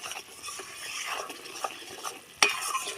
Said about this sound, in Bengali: চিনিটাকে ভালো করে গালিয়ে নিতে হবে।